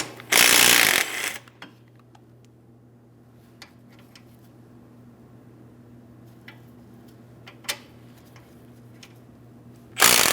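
A ratchet wrench loosens an 18mm caliper bracket bolt on a 2005-2010 Chrysler 300's rear brakes, with a loud burst of rapid clicking at the start, sparse faint clicks over a low hum, then another loud burst at the end.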